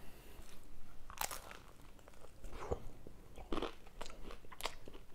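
A Domino's chicken taco with a crunchy top shell and soft underside is bitten and chewed, giving four or five loud, close crunches spaced about a second apart, with no talking.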